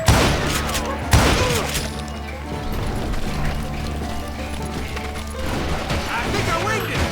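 Shootout gunfire in the Call of Juarez Gunslinger video game, a couple of sharp shots cutting through a busy layer of game sound and music, with a voice talking in the background.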